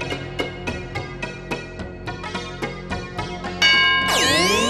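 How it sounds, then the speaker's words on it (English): On a studio game show, a series of bright bell dings sounds in steady rhythm, closing with a swelling sweep of chimes, loud and clear with no talk. "Remember the bell."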